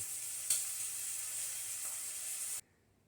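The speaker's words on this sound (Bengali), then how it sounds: "চিংড়ি মাছগুলো ভাজতে দিয়েছি" Prawns sizzle in hot oil in a pan in a home kitchen, a steady close hiss with a small stir near the start, then it cuts off abruptly.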